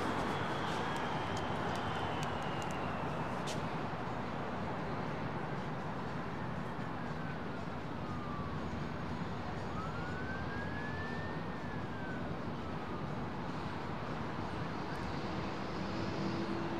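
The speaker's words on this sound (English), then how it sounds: "with that aircraft as it winds up those big General Electrics" Big General Electric jet engines winding up on an airliner at London Heathrow, a steady broad roar with rising and falling whines, continuous and fairly distant over the full length.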